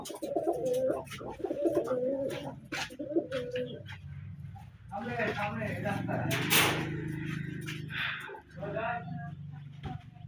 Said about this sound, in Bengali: মোট আট পিস কবুতর